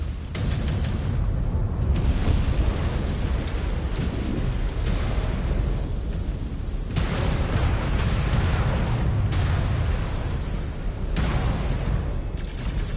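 Missile strikes in the mech combat game Mechwarrior 5: Clans make a dense, continuous barrage of heavy explosions and rumbling booms, loud and close, with no letup across the whole stretch.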